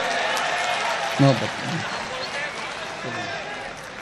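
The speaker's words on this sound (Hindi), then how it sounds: "एक बार जोरदार तालियों से इस्तकबाल करें" Applause from the audience at a mushaira poetry gathering, a broad steady wash of clapping running through the whole moment, with brief voices rising over it.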